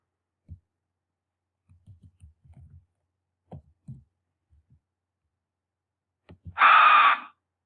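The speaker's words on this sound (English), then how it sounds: "I'm going to choose this bird scream" A few faint clicks and low knocks, then a single harsh, raspy bird scream bursts out loudly near the end, lasting under a second.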